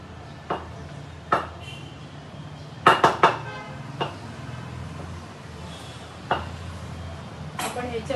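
A lid is set down on a pot of semolina kurdai batter in a home kitchen, giving a few sharp metallic clinks and knocks spread across the moment, with a cluster of quick clatters in the middle and a faint clink near the end.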